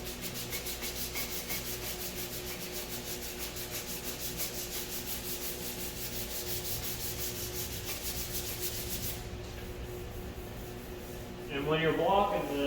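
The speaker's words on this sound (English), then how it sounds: "when you're blocking this, like especially this primer sands so easy" Hand block sanding of freshly primed bodywork on a shaved car cowl panel, a fast, even scratchy rasp of strokes that stops near the end, followed by a brief burst of other handling noise.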